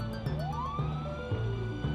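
A vehicle siren wails in Project Zomboid, a loud rising-and-falling electronic tone that repeats in a steady cycle over a low engine drone, with no talk.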